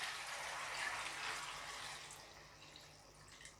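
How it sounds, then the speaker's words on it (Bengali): Water from a small mug is poured into a pan of potatoes cooked with spices for aloo dum. A soft, continuous splashing rush slowly fades into quieter trickles and drips, close by and with no voice. "এবার আমি এর মধ্যে কিছুটা জল দিয়ে দিচ্ছি।"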